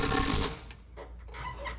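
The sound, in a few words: small impact gun driving bolts on loader transmission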